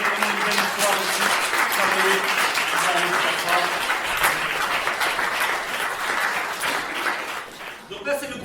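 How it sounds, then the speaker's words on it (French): A crowd applauds performers at a summer music and arts stage show, a long, full round of clapping with voices mixed in, steady before easing off near the end. "je tiens vraiment à les applaudir"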